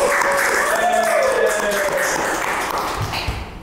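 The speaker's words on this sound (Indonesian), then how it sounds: "tepuk tangan dulu dong buat tamu kita pada hari ini." Podcast studio audience applauds a guest, a steady wash of clapping that holds at an even level and tapers slightly at the end, with faint tonal background noise beneath.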